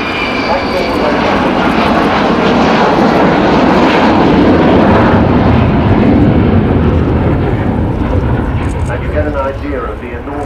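An Avro Vulcan B2 jet bomber roars past close by at an air show, a loud sustained engine rumble filling the whole clip while someone talks over it.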